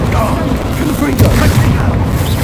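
A Confringo fire-spell blast in Hogwarts Legacy booms heavily, with a sharper burst near the middle over a constant roar of battle.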